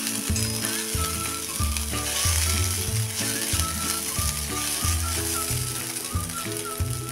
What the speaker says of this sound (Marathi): पोहे चांगले गरम होईपर्यंत परतून घेऊया।